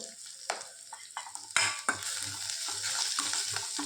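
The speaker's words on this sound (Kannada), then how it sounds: "ಜಾಸ್ತಿ ನೀರುಳ್ಳಿ ಕಾಯಿಸಬೇಡ, ಇಷ್ಟು ಕಾಯಿಸಿದ್ರೆ ಸಾಕು." Onions frying in a pan for a Mysuru masala dosa filling, a steady broadband sizzle with several sharp scraping stirs of a spatula, close and fairly loud, no talking.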